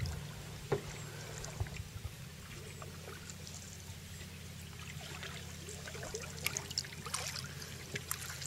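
A canoe glides on the Harrison River, with quiet water trickling and dribbling around the hull and occasional soft paddle knocks over a low steady hum; faint and calm, without talking.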